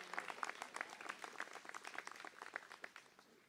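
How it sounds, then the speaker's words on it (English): Steady applause from an outdoor university commencement audience, many hands clapping in a dense, continuous patter at moderate distance, tapering slightly toward the end with no voices over it. "Why don't you give them a round of applause?"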